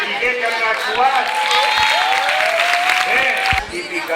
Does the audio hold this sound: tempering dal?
no